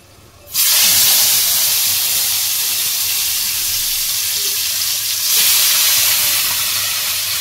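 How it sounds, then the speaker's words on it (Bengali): Marinated chicken drops into hot oil and sets off a sudden, loud, steady frying hiss that holds throughout and swells briefly near the end, with no voices. "দিয়ে দিচ্ছি তেল, আর এই যে ম্যারিনেট করা চিকেনটা একটু ভেজে নেব"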